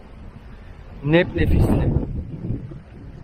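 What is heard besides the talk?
wind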